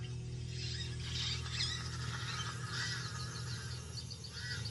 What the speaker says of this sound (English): Pied crows mob her.